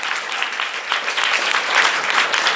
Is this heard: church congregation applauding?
yes